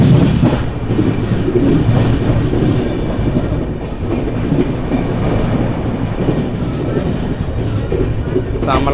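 The Tirumala Express rolls along behind a WDG4 diesel locomotive, heard from on board as a loud, steady rumble of wheels on track with rhythmic clatter. A brief higher screech comes near the end.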